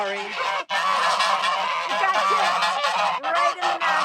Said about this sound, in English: Watch out for the geese coming